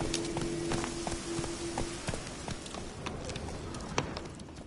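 Hooves of Roach, the horse in The Witcher 3, pound in a steady, quick gallop rhythm with crisp repeated thuds, carried over a continuous outdoor ambience with a brief tonal hum at the start.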